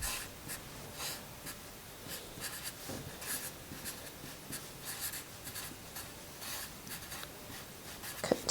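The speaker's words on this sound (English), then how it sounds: "I'm going to write ruffle" A pen scratches across a paper sewing pattern in short strokes as a word is written, a close, quiet scratching with brief bursts and small pauses over faint background noise.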